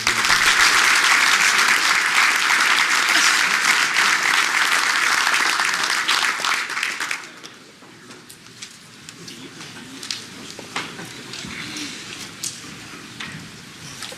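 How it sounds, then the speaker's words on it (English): Audience applause at a high school baseball Hall of Fame induction ceremony in a hotel ballroom, dense and loud for about seven seconds, then dropping abruptly to scattered lingering claps and room murmur. "Let's have a nice round of applause for these gentlemen."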